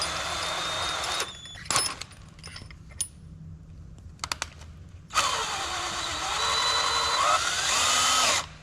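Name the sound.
power drill drilling holes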